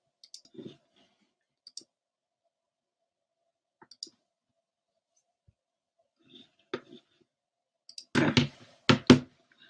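Computer mouse clicks ring out in small scattered groups across a quiet stretch, near and crisp, with a denser burst of several clicks toward the end and no talk.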